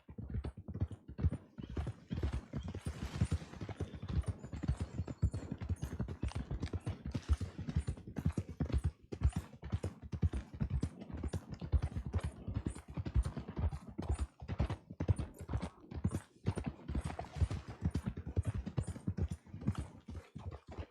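Horse hooves clip-clop on a road in the video game Red Dead Redemption 2 while riders travel toward a ledge. The rhythm is steady, close and continuous, with an occasional whinny and no talk.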